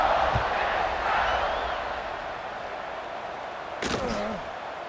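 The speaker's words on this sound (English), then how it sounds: "this crowd is buzzing after that last score" A stadium crowd in EA Sports College Football 26 buzzes with a broad, sustained roar that eases slightly, then a sharp thump and brief swell near the end.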